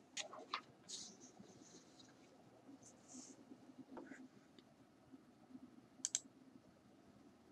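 Computer mouse clicks while working in ArcGIS desktop software, a few sharp close clicks scattered over a quiet background with a faint voice at times.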